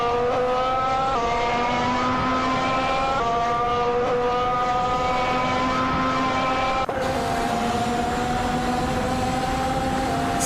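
A Force India VJM07 Formula One car in a racing video game drives steadily, its high engine whine holding a loud continuous tone that steps up through several gear changes, with no talking.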